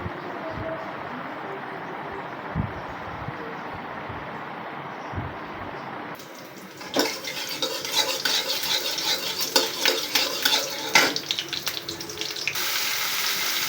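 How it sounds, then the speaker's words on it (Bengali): Eggplant pieces with turmeric and salt hit hot oil, starting as a quiet hum and then bursting into a loud, crackling fry with stirring clatter that continues steadily to the end. "তেলের পরে বেগুন দিলাম, হলুদ দিলাম, লবণ দিলাম, ভাজি শুরু করলাম।"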